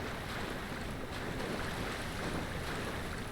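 Steady wash of water ambience from the Dark Souls Remastered video game, a continuous broadband surf-like rush with airy hiss, even in level throughout with no voices.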